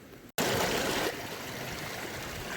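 A river flowing beside a woodland campsite, a close continuous rushing of water that swells suddenly after a brief dropout, then settles to a slightly softer steady stream.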